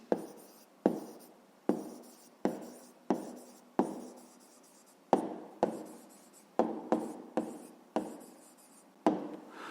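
Pen writing an answer on paper during a fifth-grade maths exercise, a series of about fourteen short, close scratchy strokes in an uneven rhythm, each starting sharply and fading, with quiet gaps between.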